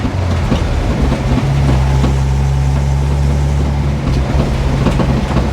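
A 1957 REO dump truck's engine drones loudly and steadily while the truck drives, a heavy low rumble with rattling and clunking from the cab and body, and no voices.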